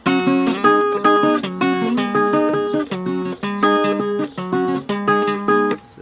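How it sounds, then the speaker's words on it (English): Quick guitar arpeggios from a song ripple in steady repeated note patterns, loud and continuous, with no voice over them. "that would be the quick arpeggios right there"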